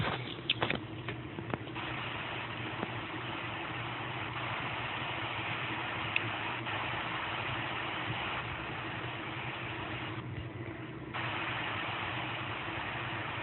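Boeing 777-300ER engines in the Infinite Flight simulator taxiing, a steady, loud, continuous engine drone with a constant hum throughout, no speech over it.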